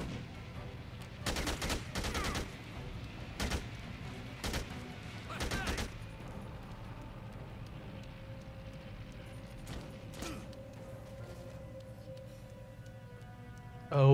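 A minigun firing at zombies in Dead Rising 2, heard as a handful of short rattling bursts of rapid fire at moderate loudness, separated by quieter stretches of background game sound.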